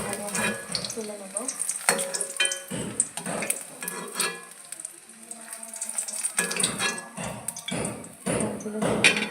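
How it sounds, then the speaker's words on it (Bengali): Chicken pieces fry in hot oil for Afghani chicken malai curry, a close sizzle punctuated by irregular bursts of clattering and scraping as the pieces are turned and lifted from the pan. "এভাবেই সবগুলো চিকেন ভেজে নেব।"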